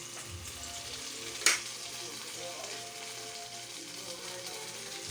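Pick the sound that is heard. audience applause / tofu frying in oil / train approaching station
tofu frying in oil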